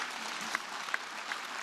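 Audience applause at the 2019 U.N. Climate Action Summit, a soft, distant wash of many hands clapping, steady and fairly quiet, with a few faint sharper accents.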